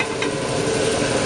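Garlic cloves sizzling in a pan with portobello mushrooms: a dense, steady frying hiss with faint crackles and a light stir, close and continuous.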